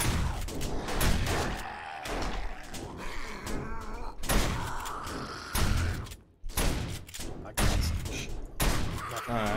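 Rapid bursts of gunfire in the zombie survival video game 7 Days to Die, loud clustered shots with slamming and metallic thuds, sounding alongside a voice speaking in brief stretches.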